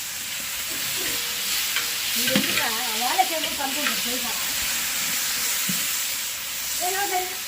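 Curry leaves added to a pot of pulao, a steady close sizzle and hiss running throughout, with voices talking over it in the middle and near the end.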